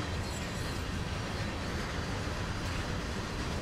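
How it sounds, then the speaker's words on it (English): Freight train carriages on a CSX heavy haul run in the Train Sim World video game produce a dense, continuous rumble of wheels, chains and linkages, steady and loud throughout with no talking. "all you can hear is like the carriages clanging together, the wheels, the chains, the linkages, everything"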